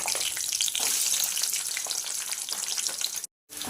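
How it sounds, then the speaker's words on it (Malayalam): Cashew nuts fry in hot ghee in a pan for a Kerala semiya payasam, giving a loud, steady crackling sizzle close up with no voices, broken by a brief silence near the end. "അണ്ടിപ്പരിപ്പ് കരിയാതെ ചെറിയ ഒരു ചുവപ്പയാകാവും ആ രീതിയിലേക്ക് വറുത്ത് എടുക്കാം"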